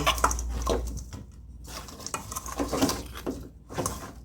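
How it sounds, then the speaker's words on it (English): A spoon stirs a pot of Jamaican curry cow foot that is still mostly frozen, inside an Instant Pot pressure cooker. Scattered metallic clinks and scrapes come and go, with a soft sizzle underneath. "I'm just gonna stir this a bit."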